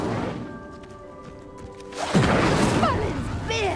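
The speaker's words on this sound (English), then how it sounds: "The flames make the pyre sink." A burst of spell fire in the Hogwarts Legacy video game, flames whooshing and crashing in loudly as a pyre sinks, following a quieter stretch of steady ambient tones.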